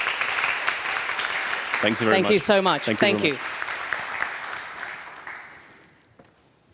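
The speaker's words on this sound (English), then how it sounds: "please give a very youthful, happy, loud round of applause to Michal for his wonderful work" Audience applause at a symposium: steady broadband clapping from a crowd that fills the room, with someone briefly speaking thanks over it midway, then the clapping tapers off and fades to near silence at the end.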